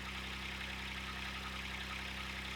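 A Kubota diesel engine fitted in a Saturn SC1 idles at a steady, even rumble, with a constant low hum and a broad mechanical hiss. It runs alone without any voices.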